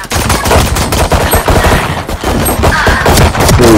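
Rapid, loud bursts of automatic gunfire in Valorant, close and sharp, repeating throughout with brief gaps between volleys.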